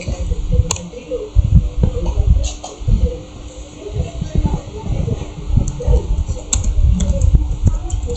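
Computer keyboard typing in a series of irregular key clicks at moderate level, with a low background hum throughout while a command is entered for virtual machine network setup.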